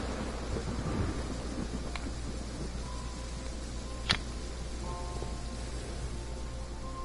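Video game thunderstorm weather: steady rain-like hiss throughout with a sharp thunder crack near the middle, a fainter crack earlier, and some low rumbling, no voices.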